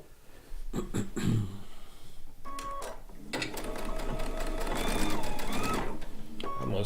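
A sewing machine runs in bursts while piecing a blue and white quilt top, the needle's fast clatter starting and stopping up close, with small handling noises between runs.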